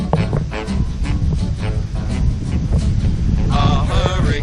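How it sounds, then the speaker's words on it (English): Wind during Hurricane Dorian buffets the microphone in a steady, heavy low rumble with uneven gusts; some faint tonal sounds rise above it near the end. "Getting kind of windy."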